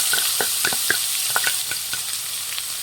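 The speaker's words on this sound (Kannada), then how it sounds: "ಈರುಳ್ಳಿ ಫ್ರೈ ಮಾಡಿ." Finely chopped onions fry over low flame in a pan for aloo bonda, a continuous sizzle with repeated scraping clinks of a spoon stirring them.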